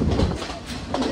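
A train runs along the Sri Lankan hill railway near Haputale station, a brief loud burst of rumbling wheel and carriage noise with rhythmic clatter.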